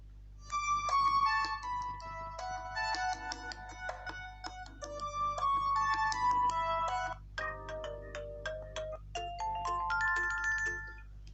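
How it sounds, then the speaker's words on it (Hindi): An Itel A36 phone's rear speaker plays a run of ringtones, several bright, synthetic melodies in turn with short gaps between them, heard clearly and close with no talking. "तो यहाँ से रिंगटोन्स को चला के देख लेते हैं।"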